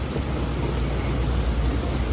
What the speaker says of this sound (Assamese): এয়া পূৰা বৰষুণ দি দিলে